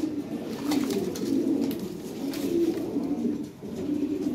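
A Lahore siraji fancy pigeon coos nearby in a series of low, throaty, repeated calls with short gaps between them.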